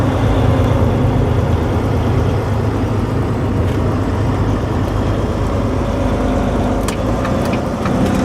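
A 2008 Volvo truck with a 500 HP D16 engine and I-Shift gearbox, just off the road, giving a loud, steady, dense engine roar that holds level for the whole stretch, with no voices.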